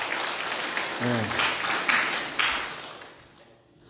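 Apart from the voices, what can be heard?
church congregation applauding for 15th anniversary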